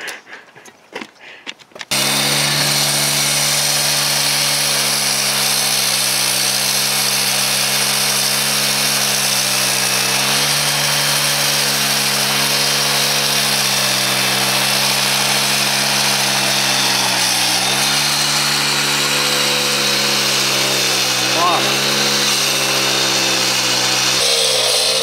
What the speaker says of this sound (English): Which let the saw idle.